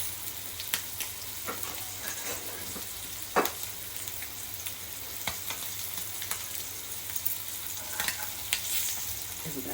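Rava-coated mandeli fish fry in a pan with a steady, faint sizzle, broken by a few soft scrapes and clicks as the pieces are turned.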